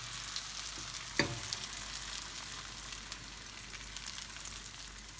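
Pancake batter frying in oil in a pan gives a steady, close sizzle throughout, with one brief sharper crackle early on and no talking.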